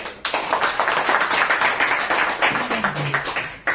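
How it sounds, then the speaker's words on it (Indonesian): An audience applauds Pak Gembong at a seminar, a dense steady clapping of many hands that stays loud and close for a few seconds, with a brief voice underneath. "Sekali lagi kita tepuk tangan buat Pak Gembong"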